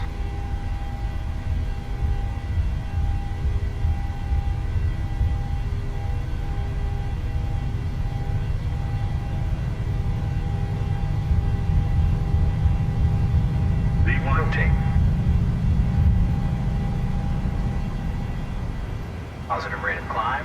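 Jet engines of a PMDG 737-800 spooling to takeoff thrust in Microsoft Flight Simulator: a steady, loud broadband roar with a low rumble and a constant whine, plus a couple of brief higher chirps near the end.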